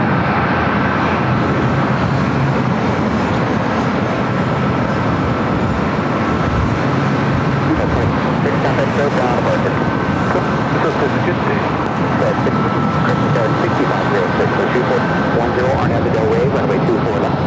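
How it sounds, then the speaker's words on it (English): China Eastern airliner taxiing at LAX, a steady, loud, broad engine roar with a faint whine, heard through wind and the outdoor airport rumble, with continuous talking over it. "China Eastern now starting its taxi."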